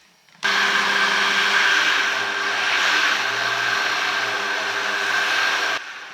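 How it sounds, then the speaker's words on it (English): A powerful kitchen blender grinds cacao for Jamaican chocolate tea, a loud steady whir with a high motor whine that starts abruptly, runs continuously for about five seconds, then cuts off. "I'm just going to blend half of this at a time"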